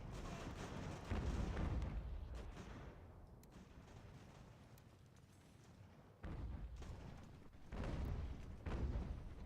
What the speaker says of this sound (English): you're getting shot in the rear by enemy artillery